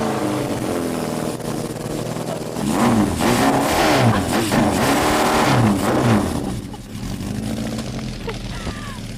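A custom Honda CB750 chopper with loud side pipes cranks and fires up, settling into a rough, throbbing idle with blips of revving, close by, while a voice talks over it.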